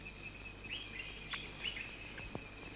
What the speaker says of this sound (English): He took his rifle from Mr. Benn and pointed it at a little bird that sat nearby.